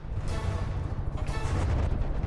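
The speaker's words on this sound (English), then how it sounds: "This cram cannon, is it working?" Heavy, continuous cannon fire from a cram cannon in the From the Depths game, a dense rumbling barrage of booms that stays loud throughout.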